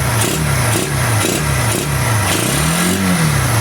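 A motorcycle engine with a newly shortened throttle cable revs close up in repeated throttle blips, rising and falling in a loud, rough rhythm.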